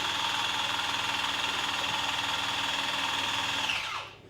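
A Roadtek 2 ton powered floor jack runs its electric motor to lift, a steady whirring hum close by that holds for several seconds and then cuts off abruptly.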